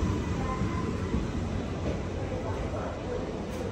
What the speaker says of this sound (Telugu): బికనీర్ బండి అదే అనౌన్స్ చేశారు కదా.